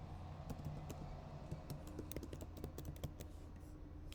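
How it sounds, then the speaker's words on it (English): Fingers tap out quick bursts of clicks on a computer keyboard while code is entered, the keystrokes irregular and close over a low steady hum, with no speech. "So I am typing here hello world."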